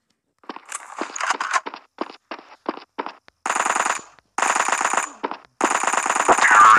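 Gunfire in a shooting video game, with bursts of single shots followed by three longer, loud automatic volleys separated by short pauses.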